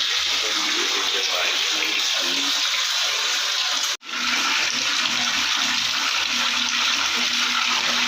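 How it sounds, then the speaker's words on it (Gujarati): Water gushes steadily into a bathtub at the Comfort Inn President hotel in Ahmedabad. It makes a constant close rush of running water, broken only by a brief cut midway, and a voice speaks over it. "तो बाथटब हमारा भरा रहा है, हमारा पानी भी भरा रहा है."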